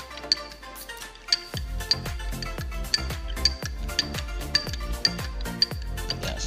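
A spoon stirs a spoonful of sand in a glass of water, clinking against the glass in a quick, regular rhythm of sharp, bright taps after a brief quiet start.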